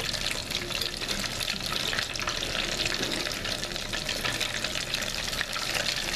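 Farm-raised shrimp coated in organic seafood batter frying in hot oil, a dense, steady crackling sizzle that fills the whole clip, close and continuous with no talking.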